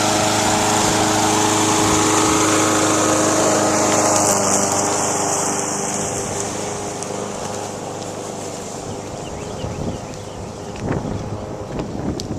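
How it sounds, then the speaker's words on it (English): Steady droning of a lawn mower engine running continuously, fairly close, with some wind buffeting the microphone and a slight drop in level partway through. "People out mowing."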